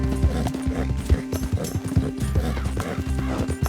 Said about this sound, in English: I assume I'm going to have to get off my horse here